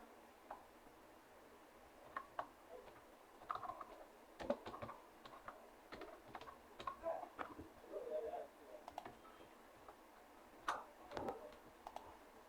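Light, irregular keyboard typing while text is entered for a social media post design, soft scattered clicks and short bursts with quiet gaps, close and faint, no talking.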